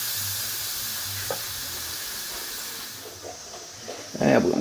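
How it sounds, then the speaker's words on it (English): Steam hisses steadily out of an Instant Pot's pressure release valve after cooking beef short ribs, a broad continuous rush that fades slightly, with small clanks and a louder rustle near the end. "Be very careful when you're releasing the steam."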